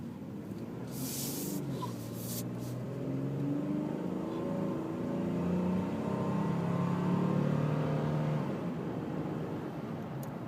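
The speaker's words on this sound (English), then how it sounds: "when you get the revs up, I mean, it's like a car engine." A 2012 Ford F-150 with the 3.7L V6 engine revs steadily while driving, a continuous mid-level engine drone that swells gradually and holds for about ten seconds with no talking.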